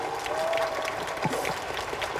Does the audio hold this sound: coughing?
no